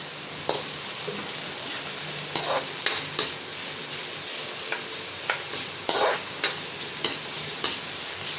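Garlic, onion and tomato sauté in oil in a pan, a steady close sizzle broken by repeated scraping stirs and clanks of a utensil, with no talking.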